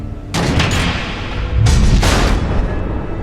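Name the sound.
missiles exploding in the video game Batman: The Telltale Series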